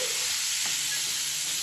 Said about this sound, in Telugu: తాలింపు వేసేస్తున్నాను